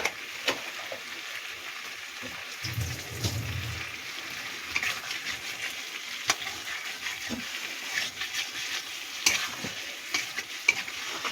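Ginger and garlic fry steadily in a pan for a tangra fish curry, a continuous close sizzle with occasional stirring scrapes and a short low rumble partway through, no talking.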